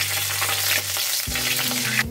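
Mustard seeds and cumin sputter and crackle in hot coconut oil, a close, steady frying sizzle with a low pan hum and a brief stirring clatter toward the end.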